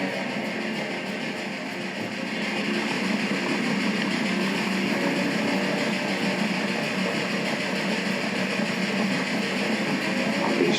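A steam train in the video game Railway Empire 2 rumbles along steadily, a continuous, even mechanical drone of engine and rolling wheels with no voices.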